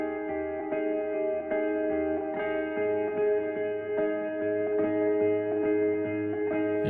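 Delay and reverb on a melodic electronic track: sustained synth tones echo and smear into a lingering wash. The phrases repeat in an even rhythm at a steady, fairly loud level, with no voices.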